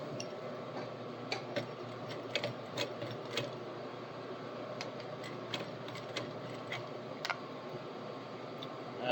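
A sewing machine stitches through fabric in a steady mechanical whir, with faint regular ticks and clicks from its moving parts running evenly throughout, close and steady without speech.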